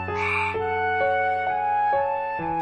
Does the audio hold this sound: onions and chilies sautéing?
no